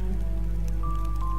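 A rain staff in the video game Dragon Quest Builders sets off soft, pattering game rain with drips over a low steady musical hum, brief and faint.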